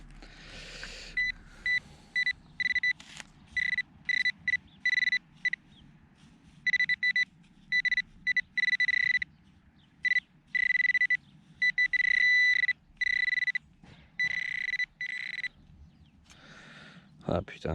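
A metal detector sweeping a beach and beeping on a small rivet fragment, giving a series of sharp high electronic tones in irregular bursts of varying length, close and loud, with someone speaking between them.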